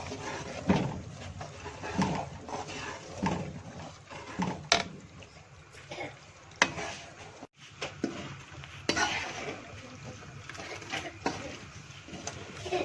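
Semolina roasting in a pan gives soft scraping stir strokes and a faint sizzle, recurring in irregular bursts with brief pauses, close and fairly quiet.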